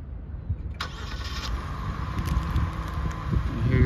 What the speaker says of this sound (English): Do your remote start.